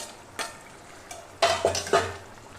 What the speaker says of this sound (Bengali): একটু খুন্তির সাহায্যে এটাকে নেড়ে লঙ্কা কুচিটাকে মিশিয়ে নিলাম